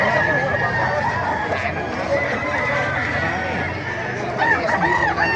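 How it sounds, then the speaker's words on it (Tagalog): Chickens cluck and a rooster crows nearby amid a busy, noisy market background with people talking, at a market in Baliuag, Philippines. "May manok dito sa Baliwag o."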